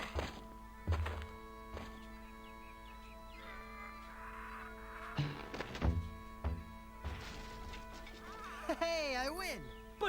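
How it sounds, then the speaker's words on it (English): In the video game The Curse of Monkey Island, a Highland caber toss makes heavy wooden thunks and thuds. Game music and character voices play throughout. "the traditional Highland display of strength and virility, the caber toss."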